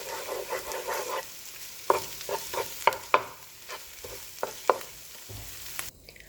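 Tomato paste is stirred in a frying pan, with a steady sizzle, irregular spatula taps and scrapes against the pan, and a brief quieter stretch at the end; no one speaks.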